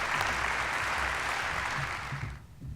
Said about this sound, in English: And we'll give him a round of applause.